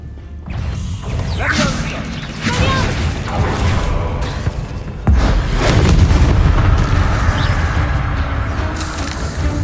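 Blasting spell explosions from a wizarding video game, several booming bursts and crashes spread through the clip, with a heavy blast around the midpoint, set over continuous game ambience and mechanical clatter.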